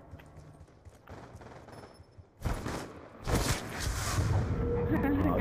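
Gunfire from the video game Black Ops 2 in gun game mode, with bursts of shots rising loudly in the second half over quieter game noise, with a voice talking.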